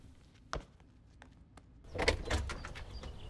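A door opening in a Western family film, starting with a few sharp clicks and knocks, then a louder burst of rattling and scraping that continues to the end, heard nearby with no voices.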